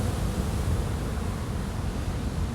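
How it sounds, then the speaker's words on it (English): Ocean surf breaking at a beach where surfers ride high winter waves, heard as a continuous, loud, even roar of churning water with no voices. "lots of waves"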